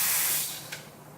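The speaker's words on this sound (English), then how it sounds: "So we purge our steam wand" An espresso machine steam wand is purged with a short burst of loud, breathy hiss that fades out over about a second, close up with no talk.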